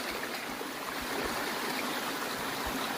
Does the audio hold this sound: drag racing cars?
no